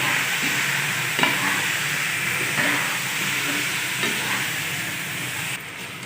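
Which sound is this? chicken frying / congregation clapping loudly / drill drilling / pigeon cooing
chicken frying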